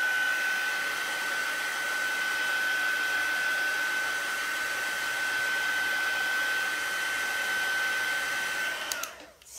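A hair dryer blowing steadily to dry Brusho paint on a foliage painting, a loud continuous whirring hiss with a steady tone, running alone for about nine seconds before switching off.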